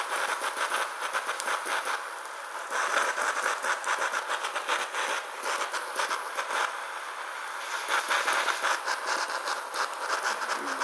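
Unsteady roaring hiss of a jet lighter flame used to melt gold foil recovered from radio components, a continuous rough rush with fluctuating rattle, close and fairly loud throughout.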